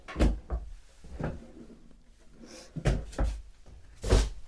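Three bathroom vanity drawers in an RV slide open and shut in quick succession, soft wooden thumps and rolls spaced irregularly, close by with no talking.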